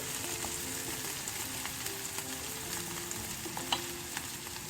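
Onions fry in a pan with a steady, fairly faint sizzle and occasional soft stirring clicks, with no talking.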